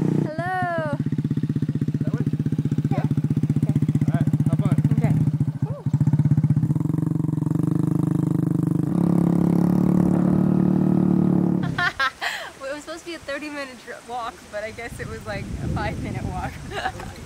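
A motorbike engine near Mount Bromo in East Java drones steadily and loud up close for most of the stretch, then cuts out as voices take over and talk toward the end.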